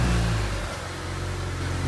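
A BMW 335i engine rumbles low and steady while the car eases backward out of a spot, a brief rev at the start settling into a smooth idle, close by with no talking.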